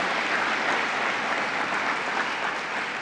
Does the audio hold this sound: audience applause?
yes